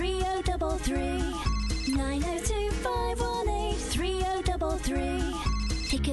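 A phone ringtone plays as a loud, steady, repeating melodic electronic pattern that loops continuously throughout with no voices.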